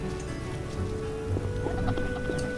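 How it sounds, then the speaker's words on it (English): Steady rain falls in The Witcher video game, a continuous patter of drops on surfaces in a town trade district, even and close throughout with a faint tonal game background underneath. "Oh no, it's raining."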